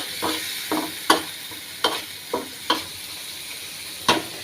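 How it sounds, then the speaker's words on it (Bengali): A spoon scrapes and knocks through lentils in a frying pan over a low sizzle, about eight distinct, irregular strokes close by, with no one speaking. "ঢেলে দিয়ে চেড়ে দিচ্ছি, নাড়াচাড়া করছি"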